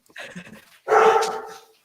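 A dog barks outdoors, a few quick low yips followed by one longer, louder bark, heard alone and fairly close.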